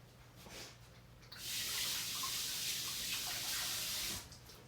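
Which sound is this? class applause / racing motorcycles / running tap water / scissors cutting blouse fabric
running tap water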